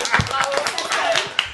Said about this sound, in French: On applaudit Elodie pour ce troisième placement de pub